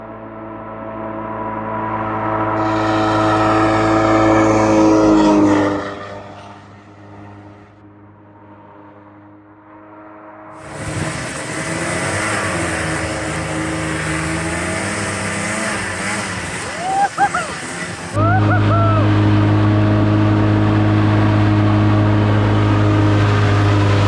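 An old abandoned hovercraft's engine roars loudly, revving high and dropping away, then surging again as it runs fast, with harsh broadband rush and a few sharp pitch swoops.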